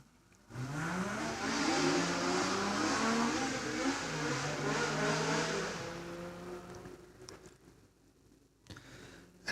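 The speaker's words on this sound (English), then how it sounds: "Datsun 1600 is charging up that hill" A bright orange Datsun 1600 race car charges up a hillclimb course, its engine note loud and rising through gear changes for several seconds, then fading away up the hill.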